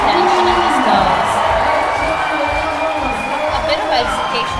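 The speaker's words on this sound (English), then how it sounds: "Crowd is absolutely in uproar." Loud crowd cheering and whooping at an international lead climbing finals competition, steady roar throughout with an announcer talking over it.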